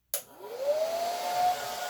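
A hair dryer blows across wet acrylic paint in an art pour, starting with a sharp click and then a steady whooshing roar with a rising whine as the motor spins up, close and fairly loud with no talking.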